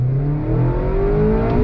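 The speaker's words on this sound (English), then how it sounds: "let me get it into first gear and we're gonna go on throttle" A 2022 Mazda MX-5 Miata Club pulling away in first gear on throttle, its engine note climbing steadily in pitch over a broad road roar, heard from inside the car without talk.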